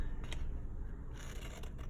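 Scissors cut through cardboard packaging while tracing out a stencil shape, with steady close snipping and crunching strokes for a couple of seconds.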